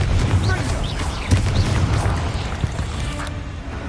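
Confringo blasting spell explosions in Hogwarts Legacy: a few close, heavy booms and crashes burst out amid ongoing combat noise, loud and short, with a voice casting spells during them.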